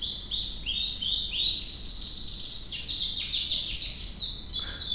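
A small bird sings a busy run of bright, high chirps and trills, steady and fairly close over a quiet background, with no one speaking.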